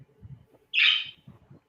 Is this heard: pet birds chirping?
yes